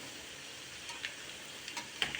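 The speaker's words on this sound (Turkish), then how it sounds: "Son tava köftelerimi de kızartıyorum." Eggplant meatballs fry in a pan with a soft, steady hiss, small crackles and pops rising now and then over the faint sizzle, no one speaking.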